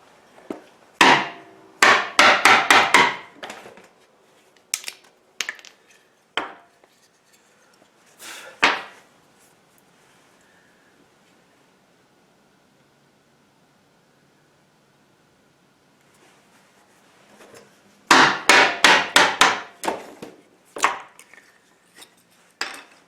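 Steel chisel struck with a mallet, chipping small bits of wood for a Radio Flyer wagon potting bench: two bursts of sharp, rapid close knocks separated by a few isolated taps and a quiet stretch.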